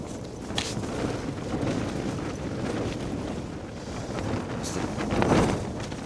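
Strong gusts of wind at about 60 mph batter a Hilleberg Soulo tent, a constant heavy roar with surging swells and sharp flapping hits, loudest near the end.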